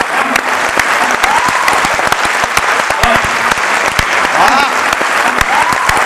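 An audience at a Hindi poetry recital claps steadily and loudly, a dense, continuous wash of many hands with no pauses and a few sharper individual claps standing out.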